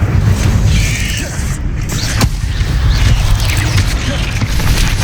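Incendio fire spell cast in Hogwarts Legacy, a dense whooshing, crackling burst with a sharp snap partway through, set in a loud game mix with other spell effects layered around it.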